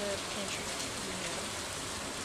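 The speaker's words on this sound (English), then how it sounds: "It's raining!" Rain in the farming game Stardew Valley: a steady, broadband patter and hiss of rainfall, even and continuous with no breaks, with faint voice traces mixed in.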